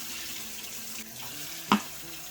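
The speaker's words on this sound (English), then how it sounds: "I will head to the sink, wash this rice thoroughly until the water runs clear." Basmati rice is washed under a running sink tap, a steady close hiss of flowing water with a brief splash or clatter near the end, no voices.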